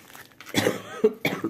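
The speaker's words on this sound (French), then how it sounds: "je m'excuse encore pour la toux" Three harsh coughs in a row, close and fairly loud, spaced about half a second apart with no talking.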